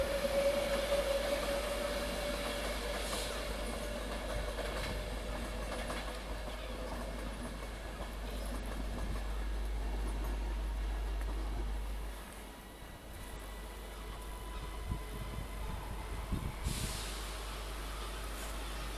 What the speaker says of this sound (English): 2005 Avanti West Coast service to London Euston